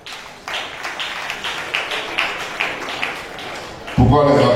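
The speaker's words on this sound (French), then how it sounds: "Pourquoi les applaudissements sont faibles comme ça?" Sparse, weak audience applause at a singing-competition quarter-final, a thin patter of scattered claps that rises and falls for several seconds before a voice breaks in at the end.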